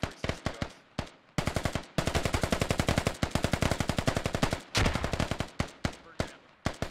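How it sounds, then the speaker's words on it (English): Automatic gunfire from a platoon in the military shooter game Squad rattles loud and close in long rapid bursts separated by short pauses. "The rest of his platoon is shooting at nothing."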